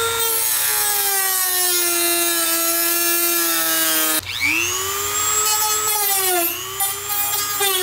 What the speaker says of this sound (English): So I'm gonna start sanding it down.